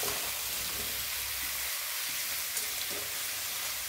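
Ginger and green chili paste sizzles loudly in a pan while cooking green papaya with peas, a dense continuous frying crackle with a brief stir-like clatter near the end and no voices.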